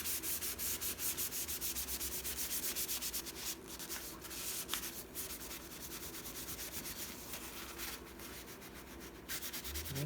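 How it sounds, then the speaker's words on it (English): Paper glued into a handmade junk journal is pressed and rubbed down with a napkin. Steady, close rubbing and scuffing runs throughout without pause, with no voices. "I'll press this down with my napkin"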